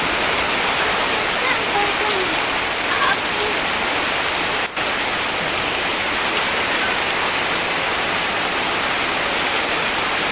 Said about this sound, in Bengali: হঠাৎ করে বৃষ্টি আর বাতাসও আছে দেখেন অনেক বৃষ্টি হচ্ছে এখন